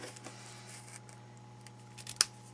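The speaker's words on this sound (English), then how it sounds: "I'm going to use my paper snips." Paper snips trimming ribbon on a handmade gate fold card: faint handling rustle, then one sharp close snip near the end, with no talk.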